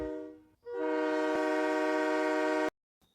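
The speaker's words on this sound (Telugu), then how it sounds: "సిగ్నల్ పడిందండి, ఇక్కడ ట్రైన్ వస్తుంది" Toy food-serving train at the Platform 65 restaurant sounding a sustained, loud harmonic horn or whistle for about two seconds, then cutting off abruptly.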